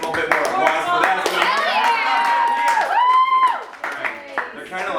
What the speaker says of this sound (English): A little bit more applause for that.